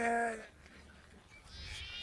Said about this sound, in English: The noisy sheep were spoiling his peace and quiet.